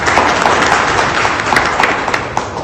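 An audience claps at a district-level journalists' conference in Sirohi, with lively, close applause whose individual hand claps stand out as it continues briefly.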